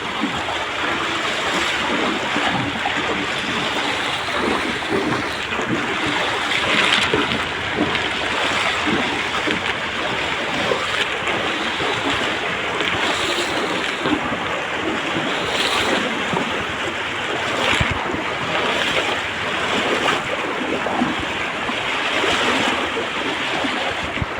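A swollen, overflowing stream at the start of a town flood in Kondotty, Kerala, roars steadily and loudly without pause, a dense wash of flowing water noise with some wind buffeting.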